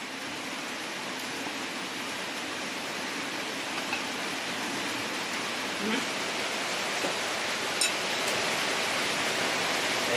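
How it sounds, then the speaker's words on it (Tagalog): Rain falls steadily on a work site that has been rained out, making a constant hiss with faint patters and occasional drips. The sound is close and continuous, with no clear talking. "wala pa nagkunda ang ulan"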